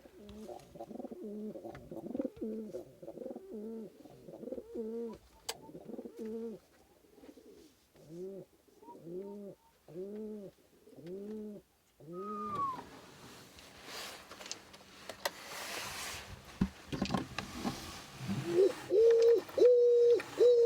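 Wood pigeons in a large oak, feeding on acorns and flitting between branches, give repeated soft rhythmic cooing phrases close by; wing flaps and rustling come in later among other bird calls.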